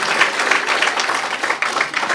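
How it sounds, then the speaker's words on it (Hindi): A crowd of schoolchildren and audience at a student event in Kathmandu, Nepal, claps steadily. The applause is dense and close, and it continues without a break for a couple of seconds. "ताली बजाइए बच्चों के लिए"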